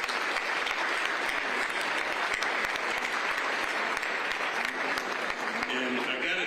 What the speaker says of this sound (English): Would y'all please stand so we can give you a round of applause?